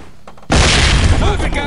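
A flashbang grenade goes off in the SWAT 4 video game with a sudden loud boom after a brief quiet moment, followed by a dense, ringing rumble that fills the rest of the moment.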